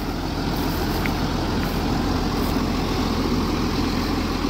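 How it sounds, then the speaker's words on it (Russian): Case PUMA 225 CVX tractor engine running steadily at close range during stubble disking, a continuous low diesel rumble without pauses or speech. "Трактор мой, на который я работаю."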